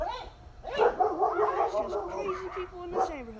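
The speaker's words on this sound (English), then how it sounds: "Hey, that's my dog." A dog barks, yips and whimpers in a few short bursts at home while someone talks over it.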